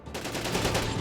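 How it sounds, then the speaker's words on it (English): Rapid gunfire from the Syphon Filter Omega Strain video game, a brief burst of repeated shots at moderate loudness in a short, busy stretch. "Who's shooting me?"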